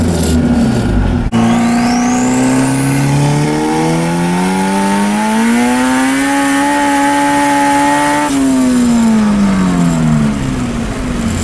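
Turbocharged Honda car, boost raised through a Hondata S300 at 50% wastegate duty cycle, accelerating hard with a loud, steadily rising engine note and a high turbo spool whine climbing over several seconds, then easing off near the end.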